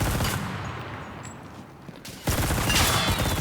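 Rapid SMG bursts in the Enlisted shooter game: a loud rattling volley at the start, a quieter lull, then another sustained close burst of automatic fire.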